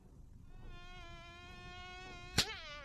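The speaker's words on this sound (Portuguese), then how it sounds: "Tem uma mosca aqui." A fly buzzes in a steady, thin, high whine close by in an animated cartoon scene, then a single sharp smack cuts in near the end as the buzz wavers on.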